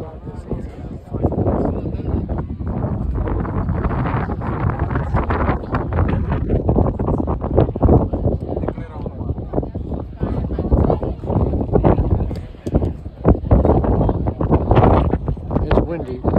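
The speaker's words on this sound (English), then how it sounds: "Wind about 23 miles an hour." Strong wind at the Mount Washington summit, 6,288 feet up, buffets the microphone in loud, gusty rumbling bursts that surge and ease throughout.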